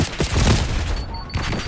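A rapid, loud fusillade of turret gunfire rattles on in Call of Duty: Black Ops 6 during a Squid Game moshpit match, dense and continuous with a brief lull before resuming.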